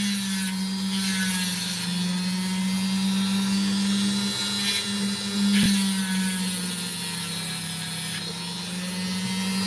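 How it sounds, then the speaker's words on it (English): A Dremel rotary tool grinds and rounds the edges of a piece of opal, a steady high-pitched whine running continuously up close, with small shifts in pitch as the bit bears on the stone. "I'll just round off some of the edges just to make it look nice."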